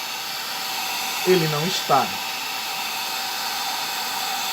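Hair dryer blowing steadily on a painted piece to dry it, a constant loud hiss and whir from start to finish, with a person briefly speaking over it.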